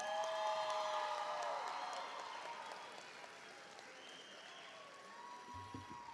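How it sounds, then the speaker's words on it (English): A large audience applauds graduates of the Rhodes School of Environmental Studies at their 2025 ceremony, steady loud clapping from a crowd with scattered cheers that gradually thins and fades. "Let's give our Rhodes graduates, class of 2025,"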